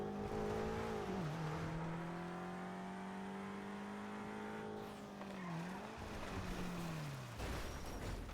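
A car engine in a GTA roleplay video game, revving with a steady harmonic drone that dips and rises as it shifts and brakes, with tire squeal and skidding, loud and close, no talking.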